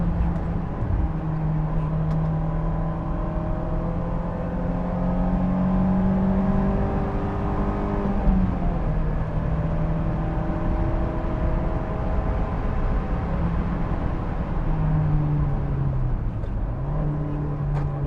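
A sports roadster engine revs hard under sustained acceleration, its pitch climbing and dropping with gear changes and heel-toe blips, loud and continuous from inside the car.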